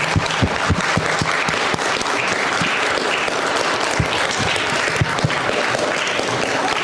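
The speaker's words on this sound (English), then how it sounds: "Let's give everyone a round of applause." An audience at an Inauguration Day 2025 event breaks into a round of applause, dense, loud clapping from many hands sustained evenly throughout, with some sharper individual claps standing out.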